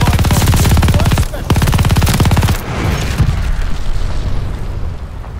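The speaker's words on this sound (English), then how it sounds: "Friendly sending a flight bomb." An airstrike in Call of Duty Vanguard's multiplayer opens with loud, rapid machine-gun bursts, then a heavy bomb explosion rumbles out into a long, fading roar with debris noise trailing off.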